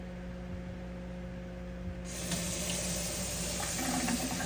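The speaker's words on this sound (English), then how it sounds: "I'm gonna go ahead and rinse that off." Tap water runs from a kitchen faucet to rinse lobster and shrimp, starting as a faint trickle over a low electrical hum, then opening into a steady, nearby splashing stream.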